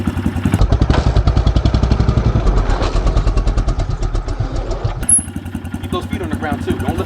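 A Honda CRF125F dirt bike engine runs close up during wheelie practice, a steady pulsing chug with throttle blips and a sharp change around the five-second mark. Someone briefly talks over it.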